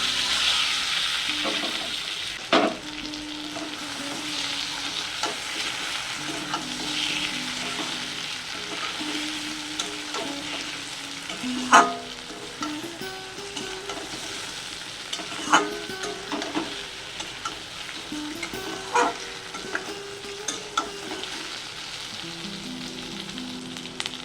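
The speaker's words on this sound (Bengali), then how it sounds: "আচ্ছা বেগুনগুলো ঢেলে দেবো" Eggplant pieces frying in hot oil for a homemade pickle, a steady sizzle punctuated by clinking strokes of a spoon stirring the pan, with no talk.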